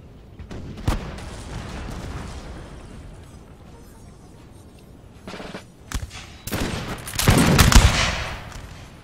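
Musket volleys and gunfire in the video game Napoleon: Total War during a Napoleonic battle against Prussian lines, with scattered shots early, then a dense crackling fusillade rising loudest toward the end, alone without talk.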